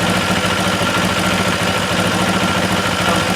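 A motorcycle engine with carburetors being synced holds a low idle near 1,000 RPM, a loud, steady, even drone with a rough mechanical rumble and no break.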